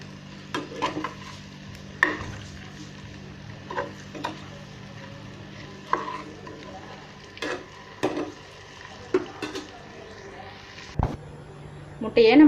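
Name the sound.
eggs being stirred and roasted in a pan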